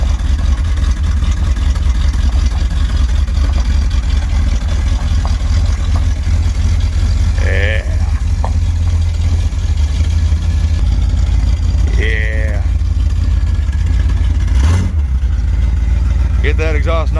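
A Dodge street van with a custom side pipe exhaust runs steadily at a loud, low rumble for the whole stretch, with a few brief higher sounds over the engine.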